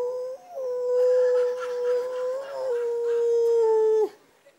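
A voice imitates an arctic wolf howling at night beside a bungalow, one long sustained wavering howl that rises and bends in pitch before cutting off abruptly, close and alone.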